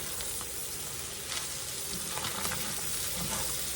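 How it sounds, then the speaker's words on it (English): Onions frying in a pan, a steady close sizzle with faint clicks of a utensil throughout, no talking. "These onions are almost cooked, y'all."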